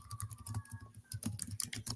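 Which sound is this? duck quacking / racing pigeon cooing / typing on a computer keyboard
typing on a computer keyboard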